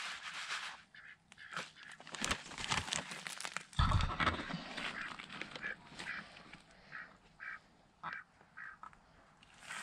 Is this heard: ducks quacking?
yes